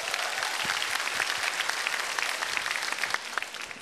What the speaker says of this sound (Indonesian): Aduh, Farhat Abbas, tepuk tangan dulu dong.